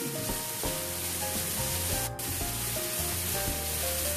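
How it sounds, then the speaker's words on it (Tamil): Onions sauté in a pan for a chicken curry, a close steady sizzle under a continuous tonal background, with a single brief hiss burst midway and no speaking. "நல்லா வெங்காயத்தை வதக்குங்க"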